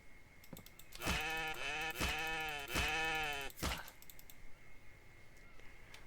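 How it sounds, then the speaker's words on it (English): A goat bleating nearby in a backyard, three loud wavering calls in quick succession, with a sharp crack between them and a quieter stretch afterward. "Am I going to kill this goat?"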